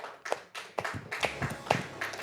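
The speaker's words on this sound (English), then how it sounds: "Yes, clap for me." A few people clap briefly, scattered claps in a light, uneven rhythm, fairly faint.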